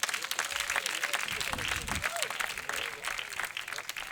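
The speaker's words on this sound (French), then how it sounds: "Faites un tonnerre d'applaudissements pour recevoir Arafat." A comedy show crowd gives loud, dense applause to welcome the comedian Arafath onstage, with cheers and shouts rising through the sustained clapping.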